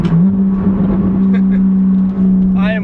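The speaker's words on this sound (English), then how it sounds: "I am literally just upshifting and downshifting like that as many times as I can." A Mercedes C300 coupe engine drones loud and close at a steady pitch while the car is upshifted and downshifted, with a brief rising whine at the end.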